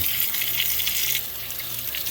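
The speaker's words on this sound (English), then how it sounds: "Put on cold water." Cold water runs steadily from a kitchen tap to rinse pineapple chunks, a continuous close hiss and splash that drops slightly in level partway through, with no talking.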